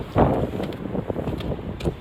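Wind buffets the outside of a Roller Team 263 TL motorhome, a steady broadband rush of gusts with a stronger burst near the start, no talking over it.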